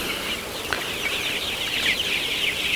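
Twenty-nine-day-old colour bird chickens cluck and chatter continuously at a moderate distance over a steady background hiss, with no talking.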